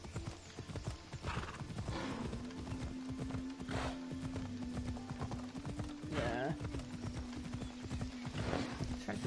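Horse hooves clip-clop in a steady trotting rhythm in the video game Assassin's Creed Odyssey, close and clear over a sustained tonal drone, with a brief whinny-like sound and a voice talking over it.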